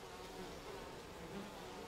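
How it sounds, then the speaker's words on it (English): A honeybee nest in the video game We Happy Few gives off a steady, close insect buzz that holds at an even level throughout, with no talking over it. "A honeybee nest."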